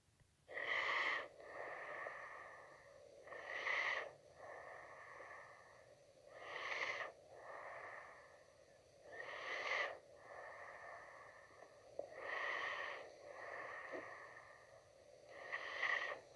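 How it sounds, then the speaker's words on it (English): Slow, deep breaths during a guided meditation session: about six long inhale-and-exhale cycles at an even pace, close and soft, with no talking. "Let's take a few more deep breaths together."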